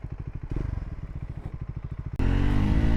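A Triumph Scrambler 400X motorcycle runs with a steady, rapid thumping engine pulse close by, then surges into a louder, denser roar as it accelerates near the end.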